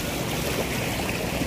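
A river runs beside a village path after rain, its water somewhat muddy. It gives a steady, close rushing wash of flowing water with no voices.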